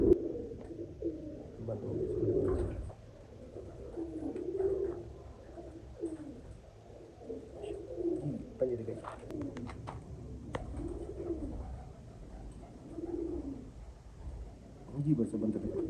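Teddy pigeons coo in a steady, repeated series of low throaty calls, fairly close, with soft voices and ambient noise mixed underneath throughout.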